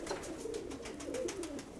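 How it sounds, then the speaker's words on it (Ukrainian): A dove coos softly in a close, repeated series of low, rounded murmuring calls, heard alone without talk. "Але це голубка."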